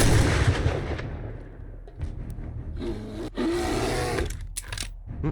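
A shotgun fires in the survival video game 7 Days to Die, starting with one heavy booming blast whose tail rolls off. Sharper clanks and mechanical reload clatter follow, all fairly loud with no speech.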